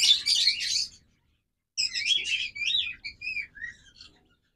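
Quail in a bird-selling setting give two bursts of bright chirping calls, the first short and dense, the second longer with several descending tweets, close and clear over a quiet background.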